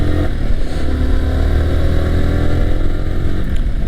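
A Yamaha R15M motorcycle engine running loud and close, a steady throaty revving drone with slight clatter throughout, no talking.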